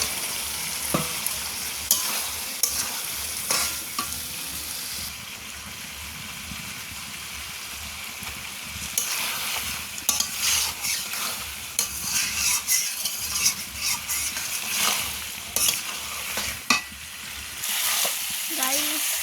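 Pigeon meat with fried potatoes being stirred and fried in a pan, a continuous sizzle broken by frequent scraping, clattering stirs that come in bursts, loud and close.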